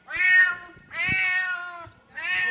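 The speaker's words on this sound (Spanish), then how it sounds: "Un gato." A cat meows three times in a game of animal sounds on a TV show. Each call is drawn out and clear, close and fairly loud, with short gaps between them.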